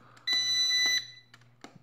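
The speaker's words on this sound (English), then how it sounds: "And then the auto orientation will beep at you every 6 seconds." Sharper Image DX-4 streaming drone sounding its auto-orientation alert: one loud, steady electronic beep lasting about a second, followed by softer clicks and handling noises.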